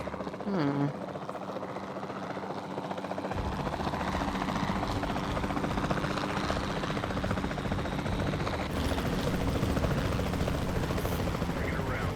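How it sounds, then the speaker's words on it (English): Capture team helicopter in Jurassic World Evolution 2, a steady loud rotor drone that continues throughout with dense rumbling texture, a short pitched chirp near the start and game effects layered over it. "Then the sensible thing is to take a capture team helicopter."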